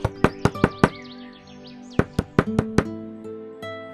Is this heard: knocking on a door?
yes